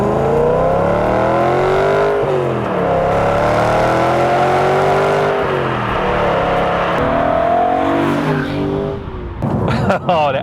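A BMW E92 M3 or Porsche Boxster S engine revs loudly up through the range after a downshift, the note climbing and dipping close by before fading out with a brief rattle at the end.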